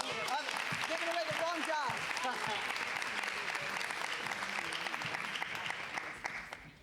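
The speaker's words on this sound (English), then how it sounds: "let's give her a round of Giving applause" An audience at a community foundation event applauds continuously for a speaker being introduced. A voice talks over the clapping at the start, and the sound stays full before tapering at the close.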